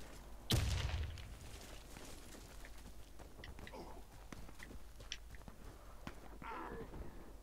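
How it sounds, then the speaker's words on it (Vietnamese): Gunfire in the video game Warface, played on PS4 in team deathmatch: one sharp close shot, then scattered lighter distant cracks and clatters, quiet and uneven, with a voice talking faintly in the background. "Bọn sniper nó bắn từ xa."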